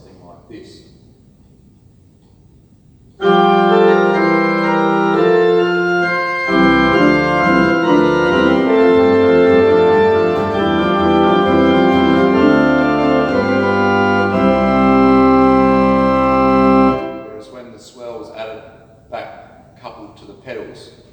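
A pipe organ plays a sustained, full chord progression for about fourteen seconds without the swell to pedal coupler, loud and rich, with quieter sounds after it stops.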